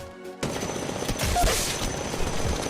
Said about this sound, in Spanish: Y ella puede seguir disparando sin ningún problema